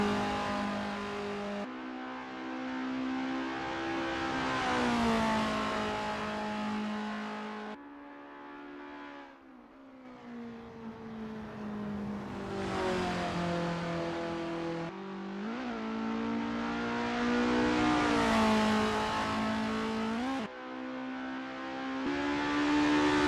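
Formula race cars in Assetto Corsa warming up at the Mont Tremblant GP circuit: a loud, close engine drone that repeatedly revs up and climbs in pitch, then cuts off and restarts, with several rising and falling surges across the stretch.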